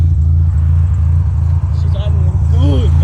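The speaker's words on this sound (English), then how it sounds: "She's idling good, baby. Idling good." A Mazda RX-7's rotary engine idles steadily with a low, throbbing rumble, close by and continuous, with faint chirpy squeaks near the end.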